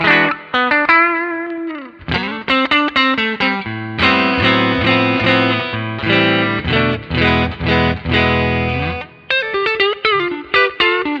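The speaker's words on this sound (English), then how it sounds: "nice clean Vibrolux with a little bit of large hall reverb at the back of it" Clean electric guitar through a Vibrolux amp tone on an Axe-FX III, playing melodic phrases and chords with a spacious large hall reverb tail, steady and full throughout, no voices.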